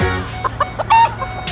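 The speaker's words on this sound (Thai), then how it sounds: "ไก่เพียบเลยนะครับดูครับ" Chickens cluck in short bursts at close range, several birds calling over a steady low background hum.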